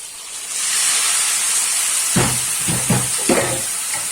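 Chopped tomatoes drop into pasta already frying in a pan, setting off a loud steady sizzle with a few sharp bursts of spitting and stirring near the end, no voices.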